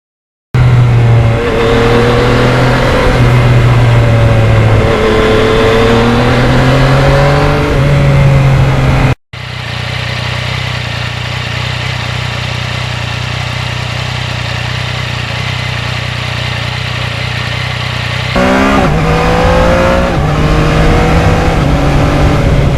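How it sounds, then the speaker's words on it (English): A motorcycle with strong low-end torque accelerates through the gears, its engine note rising in pitch, cutting out briefly at a shift around nine seconds, then droning steadily before climbing again near the end; loud and close with no talk. "this particular bike, the good low-end torque just makes going through the gears"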